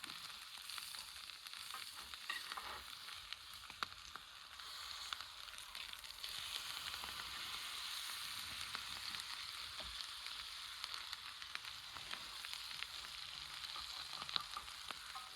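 A steak basted with butter fries and sizzles in a pan over a campfire, a steady, quiet crackling hiss that continues throughout with faint scrapes.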